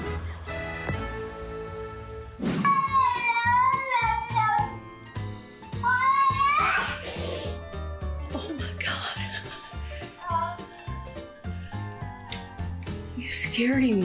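An orange cat meows several times in rising, wavering cries over music and scattered noises, with some talking in the background.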